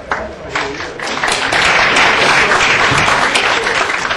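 Audience applause at an academic panel on torture and American courts, following a speaker's introduction; steady, dense clapping that swells after the first second and holds loud and even to the end.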